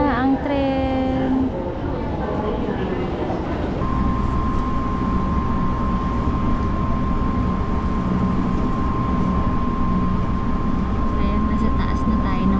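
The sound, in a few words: train in Japan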